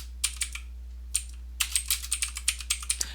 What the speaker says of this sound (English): I'm just going to type some new text